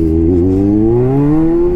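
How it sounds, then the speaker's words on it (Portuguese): A Kawasaki Z900 motorcycle engine with a full exhaust revs and climbs steadily in pitch as it accelerates in second gear, loud and close, with no pauses. "A moto tá subindo de segunda."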